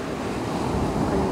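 Ocean waves wash continuously onto a beach of darker, non-white sand, a loud, broad roar of surf with wind buffeting the microphone.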